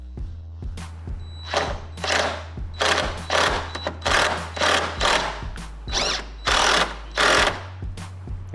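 A socket wrench ratchets a bolt tight in a garage, clicking in a steady series of short, fairly close bursts over a low constant hum, with pauses between strokes.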